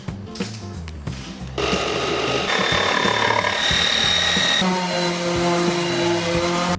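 A power tool cuts a wooden RC car frame into a half-moon shape, giving a steady, loud, close-up mechanical whine that rises in pitch partway through.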